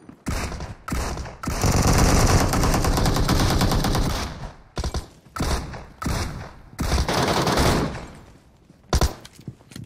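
Rapid automatic Vector submachine gun fire in the mobile shooter game PUBG Mobile, several long loud bursts and shorter volleys with brief gaps between them.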